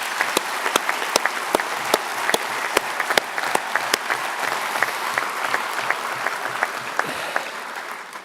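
An audience applauding at a national farmers' congress, a dense, steady clapping that carries on for the whole stretch with a few sharper individual claps standing out, fairly distant and without voices.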